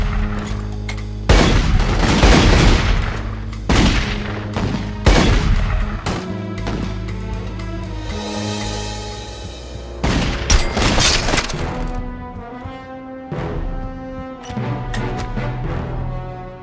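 Gunfire in The Godfather II on PS3 during a compound assault: loud, sharp bursts and booms in irregular clusters, with ringing tonal music-like layers between shots, heavy early then thinning out.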